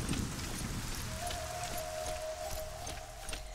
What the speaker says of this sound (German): dass es im Dschungel ja regnet und dann hört es auf mit Regnen